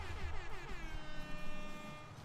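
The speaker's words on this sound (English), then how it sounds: "I can hit the air horn" A long, blaring air horn blast in a college football video game, sustained throughout, loud and steady, mixed with crowd-like game noise underneath.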